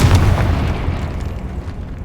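In the Hogwarts Legacy video game, the Confringo blasting spell sets off a loud, deep, sustained explosive boom that rumbles and fades over two seconds.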